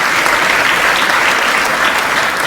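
An audience at a public speech breaks into loud, dense applause, steady clapping from many hands filling the whole moment up close.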